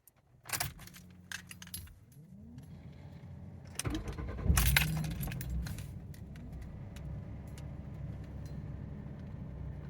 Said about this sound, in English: So I'm going to start it up here.